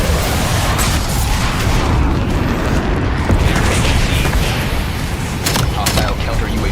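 Heavy rumbling explosions from a Hellstorm missile strike in a Call of Duty match, a dense continuous barrage of booms and blasts filling the whole stretch with game chatter mixed in.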